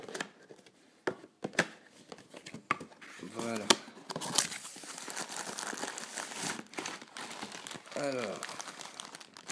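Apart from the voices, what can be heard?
peeling packing tape off a box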